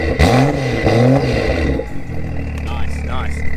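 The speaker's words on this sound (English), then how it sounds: "It's the BMW M2 with the IP exhaust. Fire it up." BMW M2 fitted with an IP exhaust with its valves open: two quick, loud rising rev blips, then a settled, rumbling idle close by.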